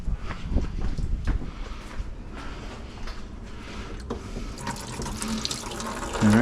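Water runs steadily through household plumbing from a tap into a sink, flushing out CLR descaler to de-calcify the system, a continuous close hiss and splash with a brief louder gurgling surge at the end.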